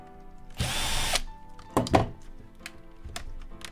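Power drill backing screws out of a Nintendo Wii console during a teardown, one loud half-second whir followed by shorter bursts and plastic clunks, close up, no speech.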